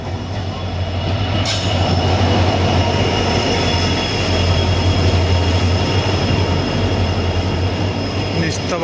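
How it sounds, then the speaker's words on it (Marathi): A passenger train from Pandharpur pulls into Sangola station, a loud close continuous rumble of wheels and carriages with a faint high squeal, steady for nearly nine seconds with occasional voices underneath. "ही पंढरपूरवरून आली आहे ट्रेन."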